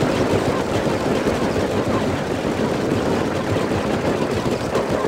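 Battlefield gunfire in the strategy game Act of Aggression, a continuous dense wash of machine-gun fire and rumbling combat noise, steady and loud throughout with no clear gaps.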